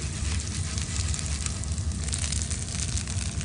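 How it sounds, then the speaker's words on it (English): Peppercorns, cinnamon and cloves fry slowly in a pan, giving a steady, even sizzle and soft crackle, close up with no talking. "Slowly fry them."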